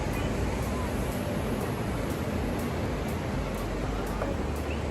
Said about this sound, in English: Let me open this for you so you hear the ocean a little bit.